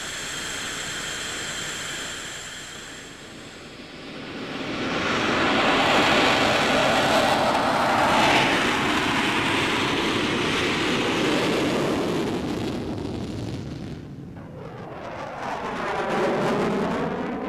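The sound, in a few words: F-18 Hornet fighter jet flying during test flights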